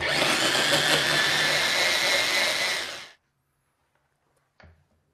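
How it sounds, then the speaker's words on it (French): A blender whirs loudly and steadily for about three seconds, mixing a vanilla milkshake made with skimmed milk, then shuts off into silence followed by a short faint knock. "Puis, on mixe le tout pendant une minute maximum."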